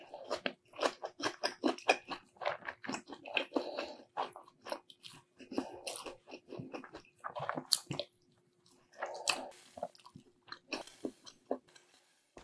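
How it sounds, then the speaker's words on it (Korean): Close-up bites and chewing of a Lotteria burger with a soy-based patty and raw onion, crisp crunches and soft wet squishes in irregular bursts separated by short quiet gaps, no talking. "이게 콩고기라고 하는데 과연 맛은 어떨지 먹어보겠습니다"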